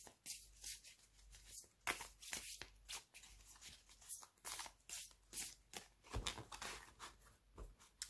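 Oracle cards being shuffled by hand, a run of quick close riffling and sliding bursts with short pauses between, alone and fairly quiet.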